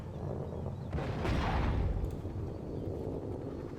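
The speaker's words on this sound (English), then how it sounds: "Oh, they're getting shot at." Gunfire crackles in the real-time strategy game Act of Aggression, a distant battle with a burst of shots swelling around the middle over steady low rumble.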